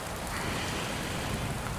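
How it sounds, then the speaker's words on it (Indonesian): Steady rain falls during a rainy-season evening, a dense even hiss across the whole clip with a soft low patter, constant and fairly close, with no voices. "Apalagi pas musim hujan kayak gini"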